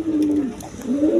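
A coloured domestic pigeon cooing up close, two drawn-out throaty coos with a short gap between them, loud and clear with no talk.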